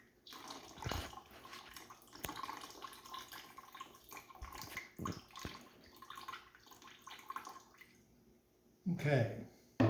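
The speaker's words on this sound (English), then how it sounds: "now it'll receive the rest of the water" Water is poured into a sourdough mixture in a home kitchen, giving a splashing, trickling pour in short bursts at close range, with a louder splash near the end.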